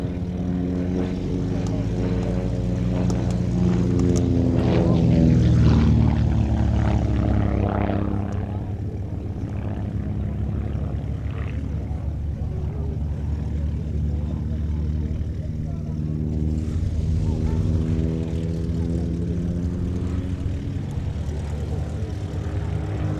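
A metal propeller aeroplane with a round radial engine up front roars past at an airshow, the loud droning rising and fading as it passes, then a second steady pass of engine noise.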